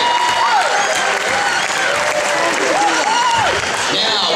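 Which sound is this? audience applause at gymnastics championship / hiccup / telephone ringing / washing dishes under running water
audience applause at gymnastics championship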